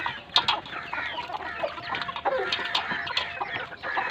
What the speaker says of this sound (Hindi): देखते हैं कि मुर्गियाँ खाती है कि नहीं खाती